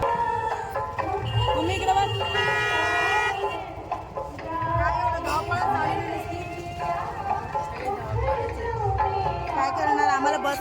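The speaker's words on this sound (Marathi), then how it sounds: "ही रिक्षा अर्धा तासात आम्हाला सगळं फिरून आणणार आहे" Busy street traffic heard from an auto rickshaw, with repeated vehicle horn toots and music playing, voices chattering nearby throughout.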